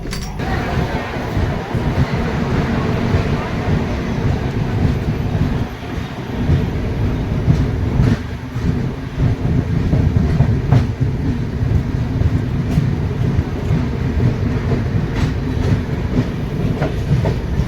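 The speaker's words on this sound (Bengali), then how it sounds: "আমাদের ট্রেন ছেড়ে দিয়েছে, ডিপার্চারটা আপনাদের দেখায়।" An express train running from Arrah station toward Patna, its carriages rolling with steady clickety-clack over the rails and constant loud rumble throughout, no talk.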